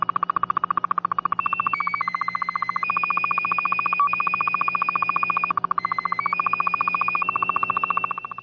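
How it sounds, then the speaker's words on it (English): A slow scan television picture signal received on shortwave radio gives a steady, loud warbling tone with a rapid regular pulse, stepping between sustained pitches in an electronic pattern, with no voices. "Slow scan television is a signal used to transmit a computer image"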